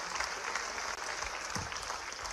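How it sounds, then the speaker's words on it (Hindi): An audience claps loudly and steadily at an event honouring the sports and youth welfare minister, with dense continuous applause filling the whole stretch and a faint murmur of the crowd beneath it. "एक बार जोरदार तालियां हो जाएं आपके सम्मान में।"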